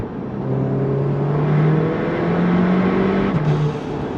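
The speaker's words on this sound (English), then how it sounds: "you can hear all of that exhaust pressure hitting the inside valve" A Mk7 Golf R's steady, loud exhaust drone with valves closed, exhaust pressure hitting the inside valve in a low whooshing, vacuum-like rush, with a slight pitch shift near the end, no voices.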